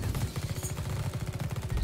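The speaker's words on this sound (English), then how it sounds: "I shot a toxic canister" Rapid, evenly spaced bursts of gunfire from shooting a toxic canister in The Red Solstice, a quick rattling volley that is close and steady throughout.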